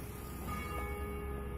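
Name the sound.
church bells ringing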